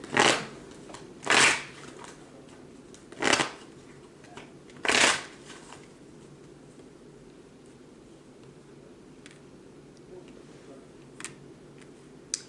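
Tarot cards are shuffled in four crisp riffling bursts over the first five seconds, close and fairly loud, followed by quieter faint handling rustles and clicks.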